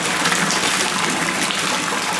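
A submerged pump pushed deep into a water tank gushes water in a steady, loud churning rush with no pauses and no other sounds.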